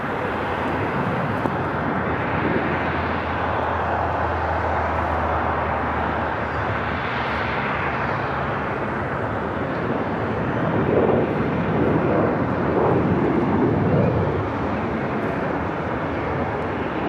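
A JetBlue Airbus A321 airliner arrives at LAX from Boston: a steady, broad jet roar that swells gently toward the end, with no voices.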